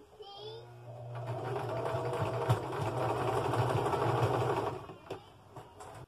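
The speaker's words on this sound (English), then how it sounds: "Now she's going to sew all three of those strips together into one." A sewing machine runs steadily for about four seconds, stitching three fabric strips together for a braided trivet or rug, with a low motor hum and rapid needle chatter before stopping abruptly.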